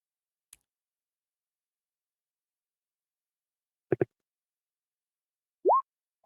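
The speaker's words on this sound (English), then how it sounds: "clicking sound she makes with her tongue when she's thinking and considering." Two quick tongue clicks from a woman thinking something over, sharp and close in near silence, followed by a short rising vocal sound with a faint tap at the start and end.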